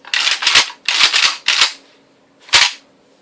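Pump action of a Mossberg 590 Mariner shotgun racked several times, loud close metallic slide strokes in quick back-and-forth pairs, then one final rack after a short pause.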